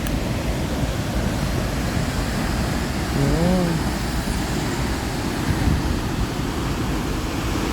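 Cathedral Falls waterfall beside a bridge, a steady broadband roar of falling water filling the scene, with a brief voice heard faintly over it.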